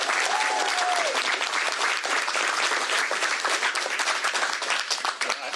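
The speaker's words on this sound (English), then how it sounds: "Please give Governor Inslee a round of applause" A press conference audience gives Governor Jay Inslee a full, sustained round of applause, many hands clapping together at close range and staying strong throughout, with a faint tone briefly near the start.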